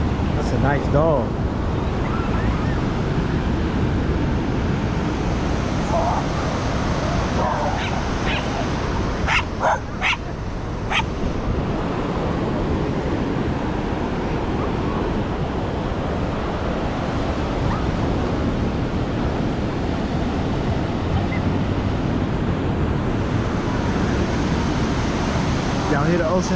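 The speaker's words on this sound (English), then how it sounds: "Y'all hear the ocean sounds?" Ocean waves break steadily on the shore as a continuous loud wash of surf, with a few dog barks and yips around the middle and faint voices talking in the background.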